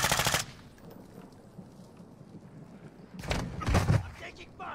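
Automatic gunfire in a battlefield video game: a short burst opens, quiet rumble follows, then several more loud bursts crowd together near the end.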